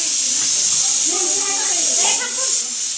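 Steam hisses loudly and steadily from a pressure cooker the whole time, a bright continuous rush, while voices talk underneath it.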